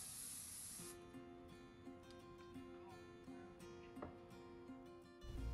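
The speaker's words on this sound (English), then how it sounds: "give it a really good spray with a hard-holding hairspray" A can of hard-holding hairspray gives one strong, close hissing burst over freshly curled thick hair, then cuts off as soft music continues.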